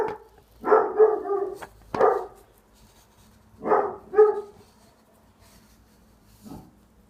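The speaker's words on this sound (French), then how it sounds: "pas attention au chien qui aboie," A dog barks in short clusters of two or three gruff barks separated by pauses, close and loud, fading to a single softer bark at the end, indoors near a stove.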